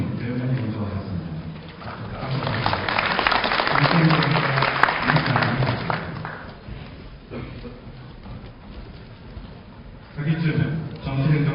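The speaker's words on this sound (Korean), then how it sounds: "큰 박수 부탁드립니다" An audience at a 2012 university degree-conferment ceremony breaks into broad, sustained applause that swells and then fades, with an announcer's voice heard before and after the clapping.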